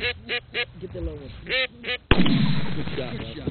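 A single loud, close shotgun blast rings out during a goose and duck hunt, following a run of rhythmic duck quacks and honks, with a long echoing decay afterward.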